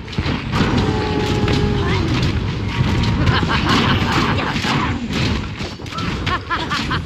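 An enemy structure blowing up in the Smite video game, a loud rumbling explosion and crashing debris sustained over several seconds amid busy battle effects, with an announcer-style voice partly over it.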